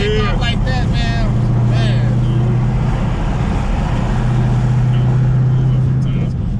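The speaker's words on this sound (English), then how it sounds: "Sometimes that wind noise be too crazy." Loud, steady roar inside an accelerating Dodge Charger Hellcat, with wind noise and a low engine drone running throughout and a passenger's voice speaking over it.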